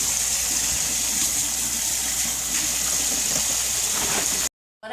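Water gushes steadily from a tap while pickling cucumbers are washed, a loud, continuous close splashing rush that cuts off abruptly near the end.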